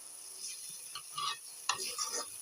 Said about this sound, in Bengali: তারপরে মটরের সাথে মশলাগুলা সুন্দরভাবে কষাতে হবে। আমি এখন কষাচ্ছি।